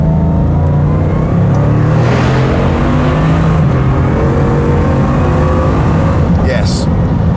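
Loud, continuous engine roar of a Bugatti Chiron accelerating hard, with rising tones and a dense, sustained rush of noise throughout and no speech.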